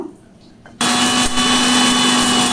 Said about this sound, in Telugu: ఇప్పుడు ఇవి మనము మిక్సీ పట్టుకుందాము